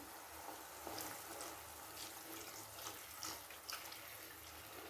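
A cornflour and water mixture trickles gradually into a pan for halwa, a faint, continuous watery pouring with soft splashy bursts, close and quiet, no talk.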